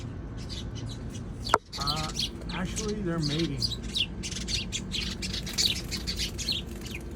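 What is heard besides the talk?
birds squawking and chirping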